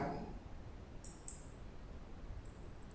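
A computer mouse clicks a few times while working in Photoshop, leaving faint, sharp, close taps against near silence with no speech.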